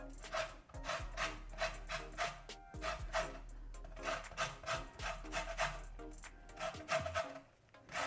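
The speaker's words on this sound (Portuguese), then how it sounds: "Então você vai tirar todas as casquinhas, ou seja, raspar a sua laranja." Orange peel scraped on an ordinary household grater to remove the zest for orange gourmet brigadeiro, a close, steady run of rhythmic rasping strokes with brief pauses, no talking.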